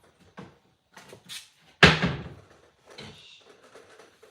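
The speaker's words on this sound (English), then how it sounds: "Just got to slam the cupboard too." A cupboard door slams shut once in a quiet room, a sharp thud that rings briefly, set among softer rummaging knocks and handling noises before and after.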